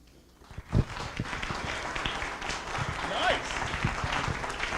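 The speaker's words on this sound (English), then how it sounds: "Give him a round of applause." An audience breaks into applause, a busy wash of many hands clapping at moderate distance that swells and holds, with talking over it.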